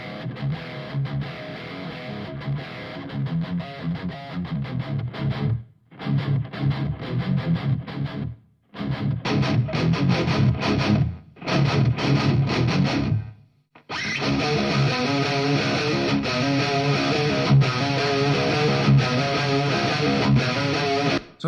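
Heavy distorted electric guitar track captured through a ribbon mic for a song mix, loud chugging riffs in several bursts separated by brief gaps, then a sustained full section to the end.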